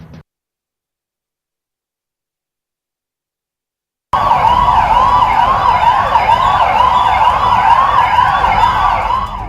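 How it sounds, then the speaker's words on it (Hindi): After a few seconds of silence, loud police sirens wail continuously, several overlapping rising-and-falling tones, close by, with engine rumble underneath from a police motorcycle flag march in Delhi. "सायरन की साई साई के बीच बाइक पर दिल्ली पुलिस के जवानों का ये फ्लैग मार्च"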